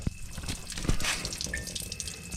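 Water dripping and trickling out the bottom of a unit after being rinsed with a garden hose, soft splashes and drips with a few sharper drops, close by.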